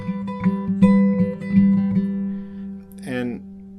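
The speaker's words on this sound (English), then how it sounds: "the pinch and roll pattern that you hear in part of the song" Acoustic guitar fingerpicking the pinch and roll pattern from a song, a steady plucked rhythm of pinched notes with ringing strings, played alone and close, ending on a brighter strummed flourish.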